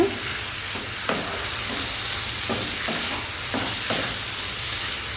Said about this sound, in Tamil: இப்போ இதை நல்லா மிக்ஸ் பண்ணிக்கோங்க.